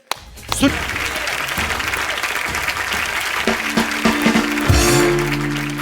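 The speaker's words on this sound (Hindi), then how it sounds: "प्लीज जोरदार तालियों से स्वागत कीजिए।" Studio audience of a Hindi comedy talk show, The Kapil Sharma Show, breaks into loud, sustained applause that fills the room for several seconds and swells slightly near the end.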